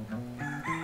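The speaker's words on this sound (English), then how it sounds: "Excuse our roosters." A rooster crows in the distance, a drawn-out rising and falling call with no talking over it.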